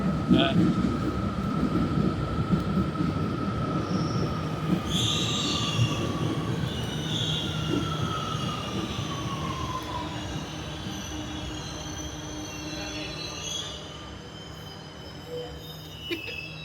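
A Buenos Aires metro train rumbles along the track as its wheels squeal in long, high drawn-out tones, close and loud, fading slightly as it moves, with people talking faintly underneath.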